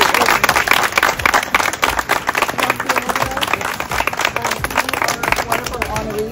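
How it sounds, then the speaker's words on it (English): Audience applauds at a high school staff recognition assembly, dense clapping with cheers and voices mixed in throughout, loud and close, with some talk under it. "Let's give them a round of applause."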